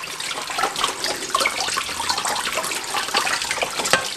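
Cold tap water running and splashing steadily, with a hollow gurgling patter as potatoes are rinsed beneath the stream.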